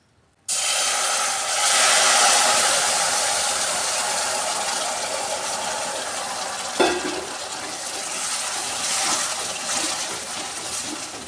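Sugar water poured into reddish roasted flour in a karahi for kada prasad hisses loudly the instant it hits, then settles into a steady, broad seething sizzle with a faint clack of a utensil midway.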